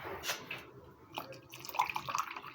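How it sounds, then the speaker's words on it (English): Warm water poured into a bowl of puff puff dough, splashing and trickling in uneven bursts at close range with faint dripping, no talk. "I'm going to add warm water now"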